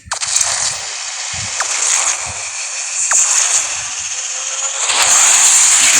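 Car racing engines in the mobile game Asphalt Nitro 2, a loud, continuous high-pitched whine with brief sharp effects and a surge near the end.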